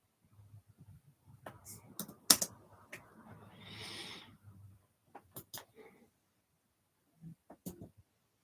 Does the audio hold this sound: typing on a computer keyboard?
yes